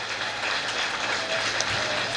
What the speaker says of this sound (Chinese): 敬请大家掌声予咱黄伟哲市长、副市长甲伊的团队啦